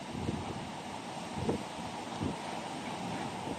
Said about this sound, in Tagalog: Oh, grabe hangin.